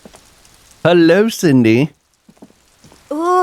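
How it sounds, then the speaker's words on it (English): Rain falls in the detective game Disco Elysium as a faint, steady hiss in the background, mostly buried beneath a voice speaking over it. "that rain sounds really awesome right now"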